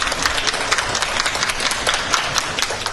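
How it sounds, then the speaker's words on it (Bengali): Applause for the Prime Minister at the end of a forum plenary session, steady dense clapping from a large hall audience throughout. "অনুষ্ঠান শেষে বাংলাদেশের সরকার প্রধানকে করতালি দিয়ে শুভেচ্ছা জানানো হয়।"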